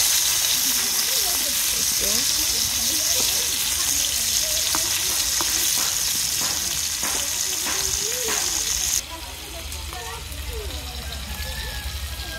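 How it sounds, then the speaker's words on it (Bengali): Hilsa fish frying lightly in a pan in a home kitchen, giving a steady, close oil sizzle and crackle throughout, dropping slightly quieter toward the end. "হালকা একটু ভাজবো ইলিশ মাছটা"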